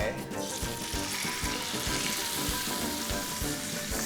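Steady, loud sizzling of chicken skin frying in a hot pan, with a crackling hiss over a faint rhythmic low thumping.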